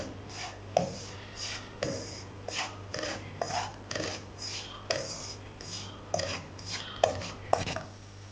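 Semolina roasts in a hot pan while a spoon scrapes and stirs it in repeated rough strokes, close and fairly quiet, with a faint steady hum underneath.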